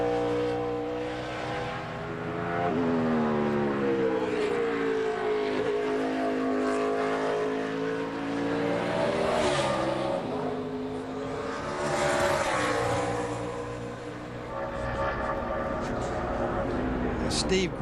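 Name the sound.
NASCAR race car engine on qualifying lap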